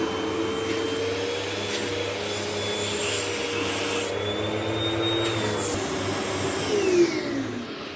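A Eureka Boss SmartVac upright vacuum cleaner runs at full suction, giving a loud, steady motor roar with an airy hiss that stays constant throughout.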